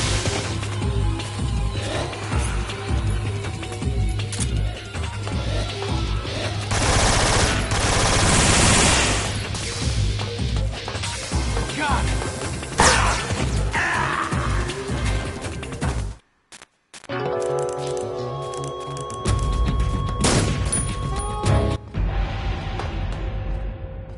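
Sustained automatic gunfire in Metal Gear Solid 3: Snake Eater, loud dense fusillades rattling almost continuously, broken by a brief silent gap before the shooting resumes.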